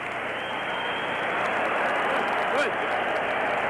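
A 1975 boxing crowd cheers and applauds after a round of a Roberto Duran bout, a dense, steady roar from the arena with a brief voice rising near the end.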